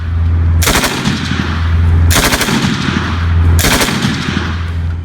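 An MG3 machine gun, a West German descendant of a World War II design, fires three long, loud, rapid bursts, each a dense ripping roar of shots with short pauses between.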